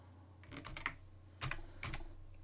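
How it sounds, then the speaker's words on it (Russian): Computer keyboard typing a virtual environment name at a server terminal: a short run of quiet, close key clicks in an uneven rhythm, with no voices. "и вводим имя виртуального окружения"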